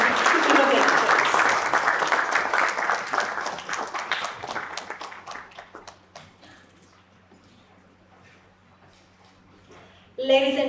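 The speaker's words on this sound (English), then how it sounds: "let's have a big round of applause for this momentous occasion" Audience applause at the SAMARTH launch ceremony at NIELIT Kohima, a full round of clapping from a crowd that starts loud and gradually tapers off to scattered claps, followed by a voice on the public address.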